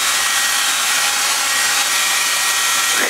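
A hair dryer blows on wet hair, a loud steady broadband whoosh running nonstop and close up, with no talking over it.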